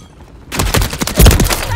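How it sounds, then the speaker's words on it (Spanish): Multiplayer gunfire in Modern Warfare 3 team deathmatch on a high-rise map, a sudden close burst of rapid shots erupting after a brief quiet moment and continuing loudly to the end. "¡Me están disparando!"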